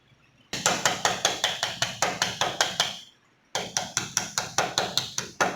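Rapid, evenly spaced soft-hammer blows bending sheet metal, two bursts of about a dozen strikes each separated by a short pause, close and loud.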